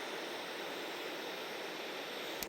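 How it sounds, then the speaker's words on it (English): A white noise sample used for 8-bit drum sounds plays alone as a flat, steady hiss lasting just over two seconds before cutting off abruptly. "the white noise, I took a white noise sample,"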